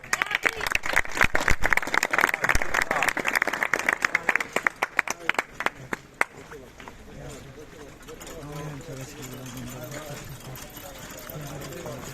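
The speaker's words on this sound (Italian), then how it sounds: "Bravo ragazzi, un applauso!" A crowd claps loudly for the bearers carrying a cereo up Via San Giuliano during the Sant'Agata festival in Catania. The dense clapping lasts about six seconds, then gives way to a lower, steady rumble and murmuring voices.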